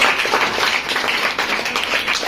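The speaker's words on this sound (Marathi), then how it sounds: "जोरदार टाळ्या होत ते सगळ्यांनी" Loud, sustained applause from an audience at a school event, a dense wash of clapping hands running steadily throughout without a break.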